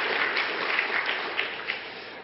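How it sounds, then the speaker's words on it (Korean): A church congregation applauds to thank members who sang in a worship service, a steady, dense wash of clapping from many hands that fills the whole stretch without talk. "다시 한번 박수로 한번 감사 인사를 전하겠습니다"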